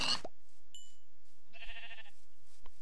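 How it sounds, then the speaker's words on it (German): Sheep bleating in the video game Minecraft: one short bleat standing alone after a brief burst of game noise, with a faint blip in between and quiet surroundings. "Hier nur Schafe."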